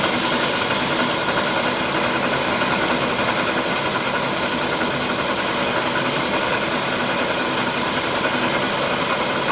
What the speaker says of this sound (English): It's a carbide cutter there, and I'm just going to feed it by hand.